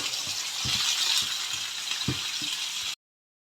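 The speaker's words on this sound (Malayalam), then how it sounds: "ഇത് നന്നായിട്ടൊന്ന് മിക്സ് ചെയ്യാം കേട്ടോ." Coconut pieces and nuts are stirred in a pan for payasam, the spoon giving a few soft knocks and rattles over a light sizzle before the sound cuts off abruptly near the end.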